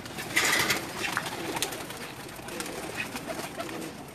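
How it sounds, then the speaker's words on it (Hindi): Pigeons coo on a rooftop loft in Jeddah, Saudi Arabia, with soft repeated throaty calls close by over light background noise and a few sharp clicks. "कुछ और भी बड़े कबूतर हैं"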